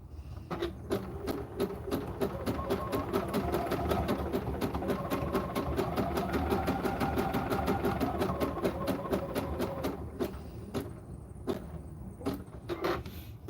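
A sewing machine stitches around the perimeter of knee pads with a rapid, even run of needle strokes for about ten seconds. A few slower, separate stitches follow, close and alone.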